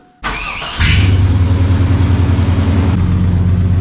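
A car engine cranks briefly, fires up, and settles into a loud, throbbing idle, close by with no talking.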